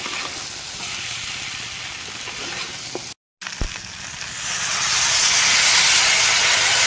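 Snakehead fish and potatoes frying in a pan hiss steadily, then briefly cut out before tamarind water is poured in, after which the sizzle swells into a louder, broader steaming hiss with no talking.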